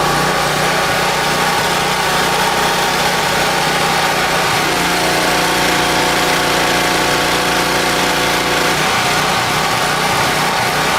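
A hurricane flood-damaged generator engine turns over weakly, a steady mechanical drone that shifts in pitch partway through and falters near the end, loud and close with no talking.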